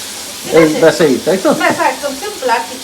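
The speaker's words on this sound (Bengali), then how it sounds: "শুকনো লঙ্কাটা আমি দেবো এই তো দেবো বলে রেখেছিলাম" Dried red chilli sizzles in hot oil in a pan, a steady frying hiss running under close, continuous talking.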